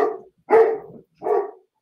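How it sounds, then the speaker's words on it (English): An excited dog barks three times in quick succession, loud and close, each bark sharp with a short gap between. "And the dog is excited."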